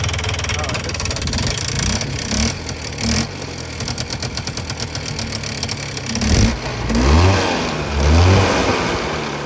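A Polaris Trail Boss 350 ATV, left abandoned for 15 years, sputters and runs close by, its engine rising and falling in uneven revs, with a voice speaking over it.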